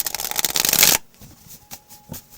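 Two decks of tarot cards being riffle-shuffled up close, a dense burst of crisp flicking for about a second, then a few soft taps and slides as the cards are squared.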